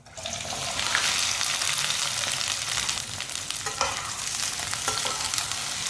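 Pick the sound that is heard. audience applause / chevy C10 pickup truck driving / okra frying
okra frying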